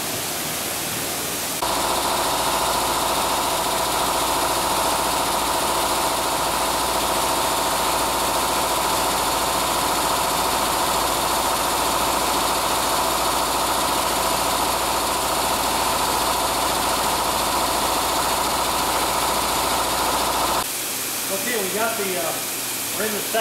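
Steady machine drone of an isotropic finishing machine polishing racing transmission gears, a continuous loud hum holding for most of the stretch before cutting off near the end, followed by faint softer sounds.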